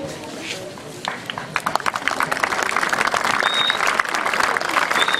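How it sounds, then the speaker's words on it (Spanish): Audience applause at a gathering honoring the Huarpe people, dense clapping swelling after a quiet start and holding steady and loud throughout. "Damos el aplauso"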